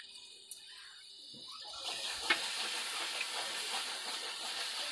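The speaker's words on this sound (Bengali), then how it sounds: "সামান্য জল দিয়ে মশলাটাকে কষিয়ে নেব" Spice masala in a pan bursts into a steady, bright sizzling hiss partway through once a little water is added, continuing evenly to the end.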